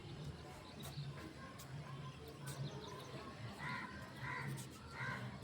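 Crows caw now and then over a noisy rural village scene with steady background bustle, the calls short and moderately distant, mixed with a low murmur of voices nearby.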